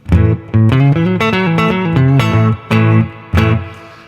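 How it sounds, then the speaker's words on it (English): Electric guitar phrase through a Fender Deluxe Reverb amp with the reverb turned up high, notes ringing and washing into each other with a lingering spacious tail. "If you want to have a lot of reverb"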